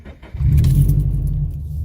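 Inside a Subaru FRS running without its exhaust silencer, the already-warm engine cranks and catches, then settles into a steady, deep, fairly loud idle rumble with faint jingling of keys at the start.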